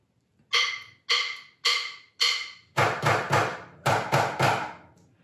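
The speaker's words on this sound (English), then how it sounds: "They're going to be 1-2-3-4 with flams. So it'll go right, right, right, left, left, left. Then you're going to release with a rim shot." Snare drum played with accented flams that finish on a rim shot: about nine crisp, sharp strikes. Four evenly spaced single hits lead into tighter doubled strokes, all close and clear with no talking.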